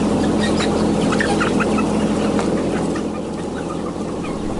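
A crowded flock of broiler chickens clucks and murmurs continuously, a dense chorus of overlapping calls with no clear pauses.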